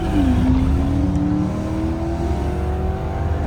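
A BMW with a 4.4 engine launches at a drag race start, its loud, steady engine roar climbing in pitch as the car pulls away.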